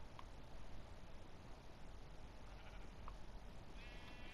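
Minecraft sheep bleat faintly a few times over a steady hiss of background noise on a game farm.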